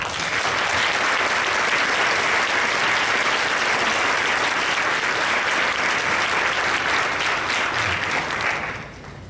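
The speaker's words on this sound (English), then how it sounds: "perhaps we might welcome her with a round of applause" Sustained audience applause welcoming the Lieutenant Governor at a rehabilitation research day in Toronto, a dense, steady roomful of clapping that continues loudly for about nine seconds before tapering off at the end.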